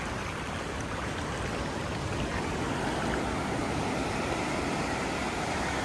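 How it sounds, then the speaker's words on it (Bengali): Small sea waves wash steadily onto Puri beach, a continuous broad rushing surf with no clear breaks, close and fairly even in level throughout. "এই দেখো অল্প ছোট ঢেউ আসলো"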